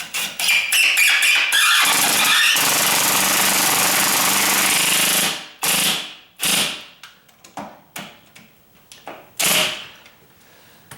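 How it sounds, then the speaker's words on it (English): An impact driver hammers a 3-inch screw into the hinge of a sagging solid-core exterior door, with a long continuous rattling burst followed by several short stuttering bursts as it seats tight, close and loud. "I'm gonna get another 3-inch screw and put another one in there, and see if I can't drive that"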